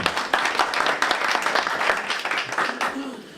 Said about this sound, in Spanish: Un aplauso para todos nosotros y para Purdue.